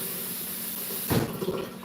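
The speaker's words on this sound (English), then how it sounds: "I will just turn the water." A water tap runs with a steady hiss that surges louder partway through, like the flow being opened up, with no one speaking.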